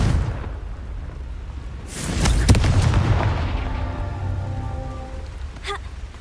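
A Confringo fire spell explodes in the Hogwarts Legacy video game as one sharp booming blast amid rain-like crackle, with a smaller pop shortly after.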